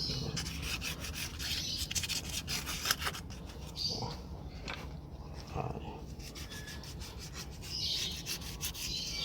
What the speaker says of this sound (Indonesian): Sekarang baliknya kita gosok, di baliknya ini kita gosok.